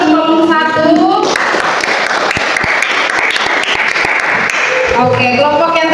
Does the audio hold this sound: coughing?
no